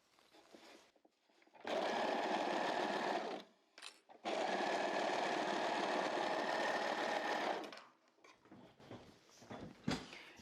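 A serger overlocking the ribbed cuff band of a garment, running in two loud steady bursts of several seconds each with a short pause between, then handling noises as the fabric is moved.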